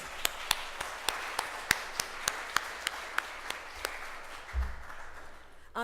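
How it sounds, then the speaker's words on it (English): Audience applause for the mayor at a Houston small-business pitch day: a sparse, steady string of single claps, one every few tenths of a second, quiet and roomy, with a low thump near the end. "Please join me in giving him a round of applause"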